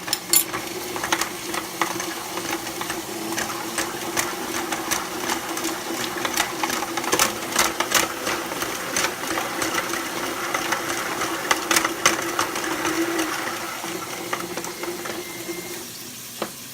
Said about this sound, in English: I accidentally put the little whisk part in the wrong slot and caused some havoc